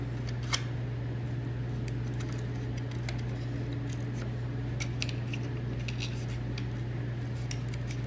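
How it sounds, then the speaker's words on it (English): Scissors snip a card being trimmed for a push mower coil gap, a series of faint, scattered clicks and snips against a steady low hum. "you might want to cut your card like this"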